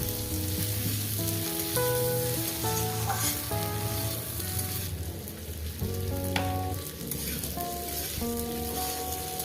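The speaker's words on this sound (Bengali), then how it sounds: "কয়েক সেকেন্ড একটু ভেজে নেব হলুদটা" Masoor lentils and turmeric fry in a hot pan, giving a loud, continuous sizzle with occasional stirring, while music plays underneath.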